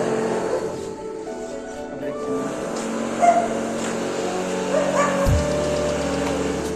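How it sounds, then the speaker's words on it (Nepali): A dog yelps and barks a few times at a distance, mixed with traffic noise and a low steady hum from a passing vehicle. "कहाँको एउटा कुकुर भुक्छ हो जतिर चाहिँ"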